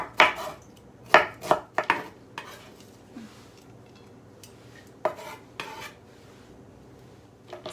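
A knife slices through a small red onion on a cutting board for a water spinach salad, making several crisp, close chops in uneven bursts with quiet pauses between them.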